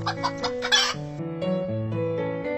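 A hen clucks as a story sound effect, a close, clear series of pitched clucks and cackles over a tonal musical background, with no talking.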